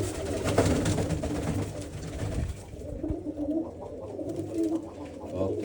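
Pigeons coo around a nest with eggs about to hatch, low repeated throaty calls with soft rustling and background noise, fairly close and continuous.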